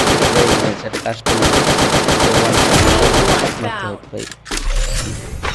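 Loud, dense automatic gunfire in a shooter video game, with rapid continuous bursts that break off briefly and then resume, close and dominant, with a voice partly buried underneath.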